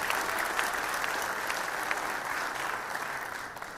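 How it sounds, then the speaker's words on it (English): Warm applause from an audience at a youth crime prevention gathering in eThekwini, steady and dense throughout with faint crowd murmur underneath. "Can we please give Sergeant Indaba a round of applause"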